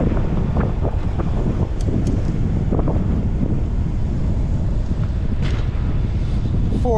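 Headwind buffeting the microphone while riding a Co-Op CTY 2.1 e-bike at about 40 miles per hour, a constant loud low rumble with scattered gusty thumps and no talking.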